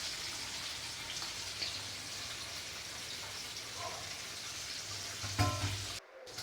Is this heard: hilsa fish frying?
yes